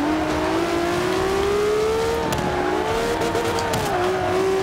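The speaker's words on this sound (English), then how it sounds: "this is my first time driving such a high horsepower car like this" A high-horsepower race car from Forza Motorsport 5 roars steadily from start to finish, its engine pitch climbing and dipping as the car accelerates and shifts, with a brief tire squeal.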